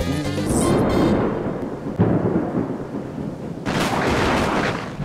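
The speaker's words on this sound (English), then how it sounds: "the wrath of the fly and a sudden thunderstorm was not something to be messed with" Sudden thunder from a thunderstorm in Florida, a loud sustained rumble with a sharp renewed crack partway through, close and filling the whole space, no voices.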